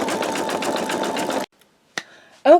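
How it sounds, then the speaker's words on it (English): An embroidery machine stitches an in-the-hoop wallet, giving a loud, steady rapid mechanical whir that cuts off abruptly into silence, followed by a few brief clicks. "I'm going to pause the video and let it continue stitching"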